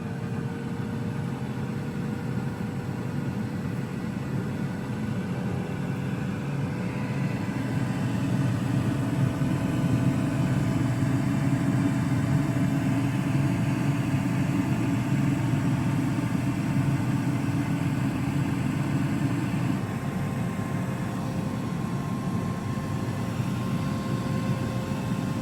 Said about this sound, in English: this air fryer is loud